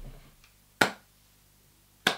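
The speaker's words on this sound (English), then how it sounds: "I'm not even sure if he's clapping in time." Two sharp, isolated claps about a second apart, close and crisp against near silence, from someone clapping along to a rap performance.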